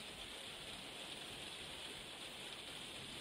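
Steady rain drums on a conservatory roof, a dense, even hiss of countless drops holding at one level throughout, close by and with no voices.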